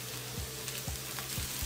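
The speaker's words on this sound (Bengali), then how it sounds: "পেঁয়াজটা আমি লাল করে ভাজবো না, শুধু একটু নরম করে নিব।" Onion softens in ghee with a quiet, even sizzle, broken by a few rhythmic scrapes of stirring.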